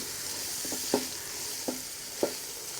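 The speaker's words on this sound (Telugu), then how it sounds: "ఈ టమోటాలు అన్నింటినీ పచ్చివాసన పోయేంత వరకు దూరగా వేయించుకోవాలి." Chopped tomatoes fry with ginger-garlic paste for a village-style chicken biryani, giving a constant close sizzle broken by three soft spoon scrapes as the pan is stirred.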